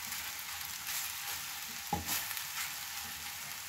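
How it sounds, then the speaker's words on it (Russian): A spoon scrapes and stirs through sizzling meat in a pan, the steady frying hiss broken by a sharper clink near the middle. "Извините, так громко, просто ложка та, которую я перемешиваю"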